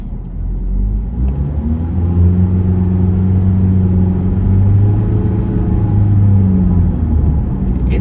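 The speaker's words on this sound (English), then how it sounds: "It takes a little time to pick up, but the acceleration is very smooth, as you would expect from a CVT transmission" Mitsubishi car with a CVT transmission, a 2013 ASX or 2017 Outlander, pulling away from a stop, its engine holding a smooth, steady droning rumble heard from inside the cabin without gear shifts.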